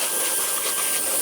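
Wolfbox MF50 mini air blower blasting dust off an RC car, a steady loud rushing hiss with a faint high whine running throughout, alone without talk.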